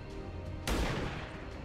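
A single sharp gunshot-like blast from a sniper rifle in the video game XCOM 2: War of the Chosen cuts through steady background noise, followed by a short decaying rumble.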